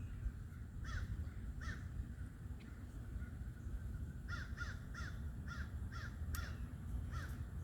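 Crows caw repeatedly outdoors, a few single calls early on and then a quick run of about eight caws, fairly distant over a steady low rumble of passing traffic.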